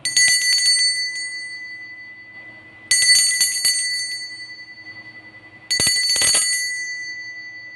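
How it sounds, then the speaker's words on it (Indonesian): Three bright ringing bell strikes spaced a few seconds apart, each with a sharp metallic onset and a ringing tail that fades, clear and close with no talk, marking the end of a five-second countdown. "ditandai dengan lonceng berbunyi"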